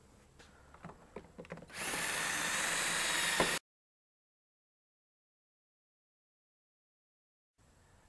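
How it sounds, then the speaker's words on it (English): A power drill whirs steadily for about two seconds, driving a self-tapping screw into a vinyl gate, with a few short clicks and taps before it. Near silence follows. "we'll add about 6 more screws in here"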